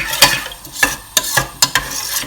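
Scrambled egg with ketchup stirred in a sizzling pan, with a handful of sharp utensil scrapes and taps against the pan over a steady frying hiss, close up.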